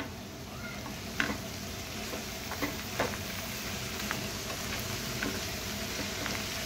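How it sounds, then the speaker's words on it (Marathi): Boiled sweet corn being stirred and mixed in a pan over a high flame, with a soft, steady sizzle and occasional light scrapes and taps, fairly quiet and close with no talking. "आता मी गॅसचा फ्लेम मोठा करते आणि सर्व मिक्स करून घेते"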